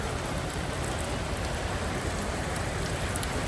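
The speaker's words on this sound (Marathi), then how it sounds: "बघा पाऊस बघा काय राव." Heavy rain pours steadily on a street in Shrivardhan, a dense, continuous hiss and patter of drops on surfaces with no pauses, close and loud throughout, with no voices.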